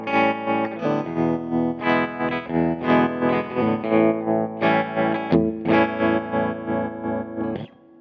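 Electric guitar plays chords through a JHS Kodiak tremolo pedal at fast speed, the volume pulsing rapidly and evenly, loud and upfront with distorted, chorused tone.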